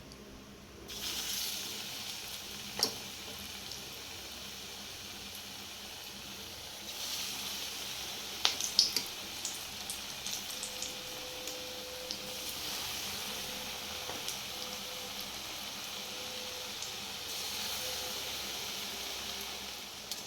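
Potato pakora battered and dropped into hot oil, giving a steady, fairly quiet sizzling hiss that swells a little at moments with occasional faint pops and crackles.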